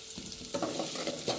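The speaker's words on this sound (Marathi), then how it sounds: "कढीपत्ता टाकल्यानंतर हिरवी मिरची जी आपण बारीक चिरून घेतलेली छान असं हलवून घ्यायचं, आणि त्याच्यानंतर त्याच्यामध्ये टाकायचा कांदा" Curry leaves, finely chopped green chili and onion frying in a pan for an aloo matar curry, a close steady sizzle with light stirring scrapes.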